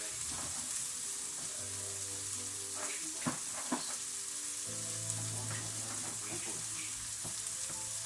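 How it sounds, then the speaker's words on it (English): Burgers sizzling in a pan while being flipped, a soft steady frying hiss with a few scrapes and taps from the spatula, plus a low hum in the background. "So we flipping these burgers now"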